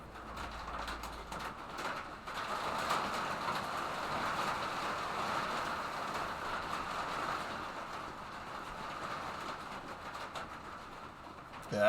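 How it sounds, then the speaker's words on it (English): Steady rain drumming on a steel garage roof, an even, continuous hiss-and-patter wash that holds at a constant level throughout with no voices over it. "Anyway, enjoy the rain sounds."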